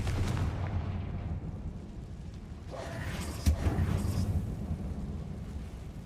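A Confringo spell explosion in Hogwarts Legacy: a muffled, rumbling blast with a sharp pop in the middle, fairly faint, set against continuous low game rumble.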